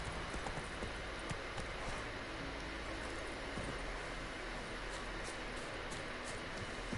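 Horse hooves clop in a steady, fast galloping rhythm in the Witcher 3 video game, faint and continuous throughout.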